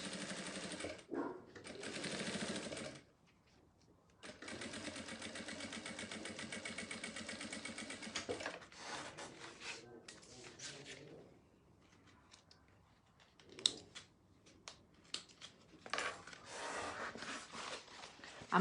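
A sewing machine topstitches the seam on a fabric strip for a round sublimated vanity case, running in several long steady bursts with short pauses between.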